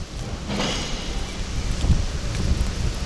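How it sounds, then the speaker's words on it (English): Heavy rain roars outdoors in Japan during a thunderstorm, a loud rushing wash with gusty swells and low rumbling thumps, close to the microphone and free of talk. "Holy rain."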